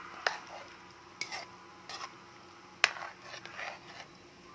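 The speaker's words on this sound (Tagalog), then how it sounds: "Saka natin siya haluin" Chicken adobo with vinegar, made with wings, liver and gizzards, is stirred in a pot: a few separate scraping clinks of a utensil against the pot over a quiet simmer, with no voices.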